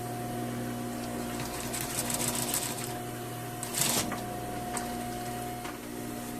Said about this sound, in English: sew all the way up at 1 millimeter also